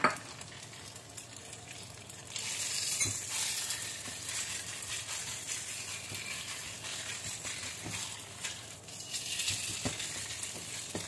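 Minced pork and shrimp meat fry in a pan, with a continuous bright sizzle that swells and fades as the meat is stirred and spread, plus a few faint knocks of the utensil.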